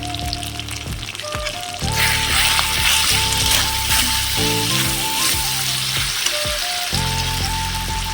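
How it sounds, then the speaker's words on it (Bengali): Vegetables and spices with chili powder sizzle and fry loudly in a pan for vegetable khichdi, a steady close crackle with stirring scrapes throughout and no talking. "দিয়ে এবার ভালো করে কষে নেবো"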